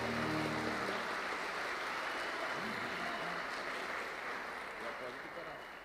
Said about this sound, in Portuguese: Pode aplaudir, irmãos, por favor